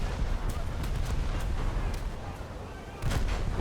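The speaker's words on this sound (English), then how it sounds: "We've had a detonation there of that ready rack" A ship's ammunition ready rack detonates in War Thunder during a naval battle aboard the USS Dealey frigate, with loud, dense booming rumble throughout and a fresh heavy blast surging near the end.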